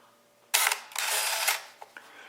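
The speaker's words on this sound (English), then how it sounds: "that looks like a really fast shutter" A Canon AF35M point-and-shoot film camera fires its shutter, a quick close mechanical click-whir burst followed by a brief motor wind, then a couple of small faint clicks.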